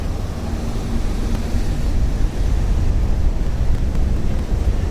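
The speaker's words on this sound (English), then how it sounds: "Now it's really windy again" Heavy wind buffets the microphone throughout on a Tokyo street between Shibuya and Harajuku, a constant low roaring rumble with no speech.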